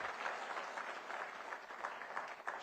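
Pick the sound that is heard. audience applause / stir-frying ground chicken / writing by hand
audience applause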